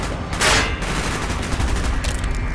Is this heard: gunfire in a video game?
yes